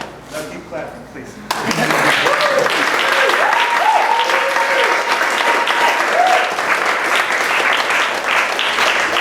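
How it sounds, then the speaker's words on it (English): A fundraiser audience bursts into loud, continuous applause after a quieter opening moment, with dense clapping sustained throughout and a few faint voices mixed in. "Now keep clapping, please."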